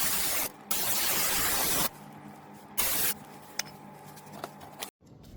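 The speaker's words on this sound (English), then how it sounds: "Get some brake clean and then spray on the oil filter." Brake cleaner hisses from an aerosol can onto a car's oil filter in two loud bursts, followed by quieter dripping and clicking sounds in a garage.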